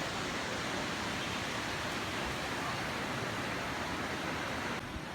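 Waterfall in Utah gives a steady, even roar of falling water, a soft unbroken hiss at moderate distance with no voices, easing slightly at the very end.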